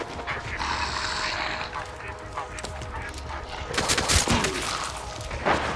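Gunfire in the video game Hunt: Showdown from a shooter on the roof of a small white house, a few sharp shots cracking out of distant rumbling ambience, with the heaviest bursts toward the end.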